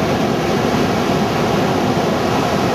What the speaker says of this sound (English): There's the ocean.